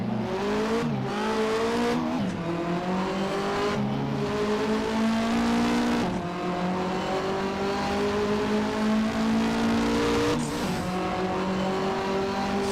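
Australian touring cars from the 1985–1992 championship racing in Assetto Corsa, engines loud and constant with repeated gear-change dips and rising revs, a close pack battling without commentary.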